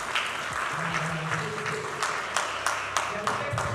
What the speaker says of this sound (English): Please clap for us now.